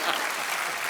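Dense, loud audience applause on a studio comedy talk show, a continuous wash of clapping filling the whole moment.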